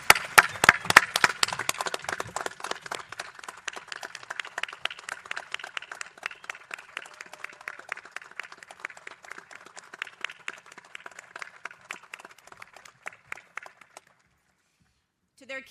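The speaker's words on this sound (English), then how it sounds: "Everybody, please join me in giving Barbara a big round of applause." An audience applauds at a Navy retirement ceremony, with loud, dense clapping at first that thins to scattered claps and stops abruptly before a brief quiet.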